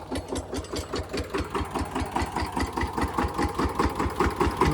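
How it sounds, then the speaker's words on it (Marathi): A tractor engine chugs steadily in a rhythmic, knocking idle while it is parked on a farm, its even pulses close and loud with no talk over it. "ट्रॅक्टर पार्किंग व्हायला लागलाय."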